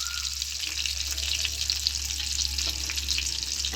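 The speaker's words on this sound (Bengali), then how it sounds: "এবার আমি ডিমগুলোকে ভেজে নেব।" Duck eggs frying in a pan with salt and turmeric as they are stirred around, a loud, steady hissing sizzle with occasional scraping of the utensil, close up and without voices.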